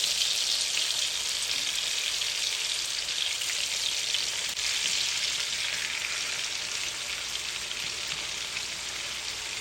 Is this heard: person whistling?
no